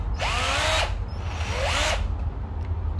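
A Makita three-function cordless drill with a 10 mm chuck runs in two close, loud bursts. Each burst rises in pitch as the motor spins up and falls away again, and a short pause separates them.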